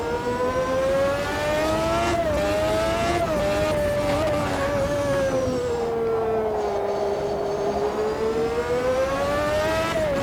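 A vintage Formula 1 race car in the Automobilista 2 racing sim screams at steady high revs, its engine note rising and dipping through gear changes and corners, loud and continuous with no break.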